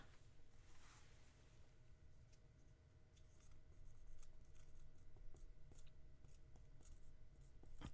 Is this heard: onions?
no